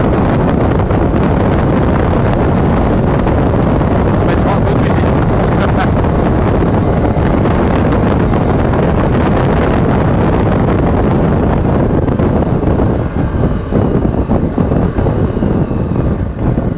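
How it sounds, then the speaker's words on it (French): Heavy wind buffets the microphone continuously, a loud low roaring rumble throughout with some boat-like engine noise beneath. "J'espère qu'on va pas avoir trop de vent"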